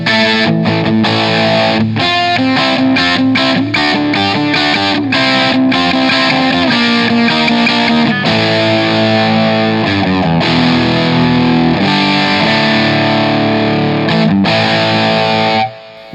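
An electric guitar on its bridge pickup, heavily distorted and run through a Two Notes Torpedo Captor X, plays a loud, dense riff of chugging palm-muted notes and sustained chords, continuous and alone, ending with a sudden stop.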